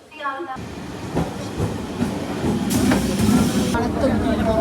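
Ride aboard a crowded commuter train heading to Kalyani on a rainy day, with a steady rumble and rattle of the carriage running throughout and a voice talking briefly near the start.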